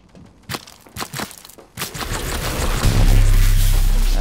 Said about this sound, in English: Of course there's a fucking turret.